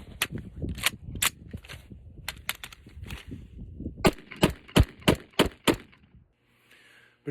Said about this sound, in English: we tap, and then of course we end up shooting.